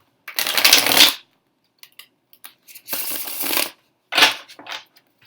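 Three bursts of a tarot card deck being shuffled, crisp riffling close by, with brief quiet taps and pauses in between.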